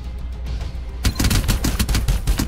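Rapid automatic gunfire in a team shooter video game breaks out after a quiet moment, a dense loud burst of shots continuing to the end with no voices over it.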